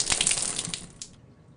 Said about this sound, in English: When I open the valve, I will drain the water until all of the water has been removed.